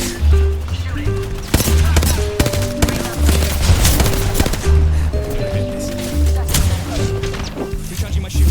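Loud rapid bursts of automatic gunfire and impacts from the Apex Legends video game, repeating in quick clusters, mixed with in-game voice lines and tonal game sounds.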